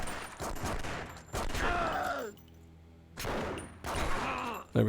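Bursts of rapid gunfire in The Punisher video game, loud volleys coming in separate clusters with short quieter gaps between them.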